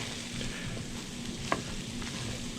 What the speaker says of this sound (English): Let's stir this up just a little bit more because I don't want these big chunks in there from the chorizo